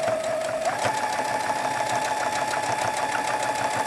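A serger sewing machine stitches pajama pants fabric in one steady, loud, continuous whir, set on a wobbly TV dinner table, with no talk over it.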